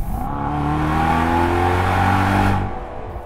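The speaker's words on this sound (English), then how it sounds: "V8 growl followed by wastegates." A 2024 Mercedes-AMG S63 E-Performance V8 engine growls and revs steadily for over two seconds, then cuts off, with a brief hissing wastegate release trailing at the end.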